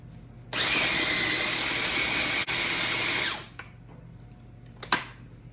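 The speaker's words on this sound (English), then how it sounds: "we're going to blend that again" A blender whirs loudly and steadily for about three seconds as it mixes pistachio crema with grated Parmesan, then winds down, followed by a few brief clunks and knocks.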